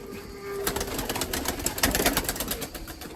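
White Erzurum pigeons coo in a loft, with a dense run of soft, rolling calls and some fluttery rustle, close and fairly steady for a few seconds.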